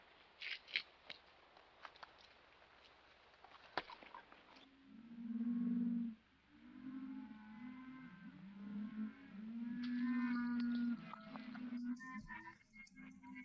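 Cattle in a herd moo on a western film soundtrack, with low drawn-out bellows overlapping at middling distance after a few scattered clicks and knocks, and faint background noise throughout.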